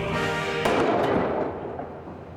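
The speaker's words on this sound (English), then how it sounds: "Those Chinese firecrackers pack quite a wallop." Chinese firecrackers set off remotely behind Lexan blast screens go up in one loud, close blast, a hard crack followed by a dense, fading roar of debris and echo with no voices.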